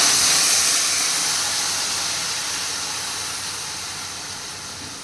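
Mushroom chicken broth boils hard in a covered wok, giving a steady, loud steam-like hiss that fades only slightly across the stretch, with no talking.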